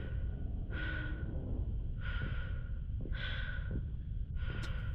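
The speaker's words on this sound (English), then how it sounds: "It's like all you hear is the sound of your breathing and your boots" Breathing inside a space suit in Mass Effect 2, heard as four evenly spaced, close hissing breaths over a steady low rumble, with no talking.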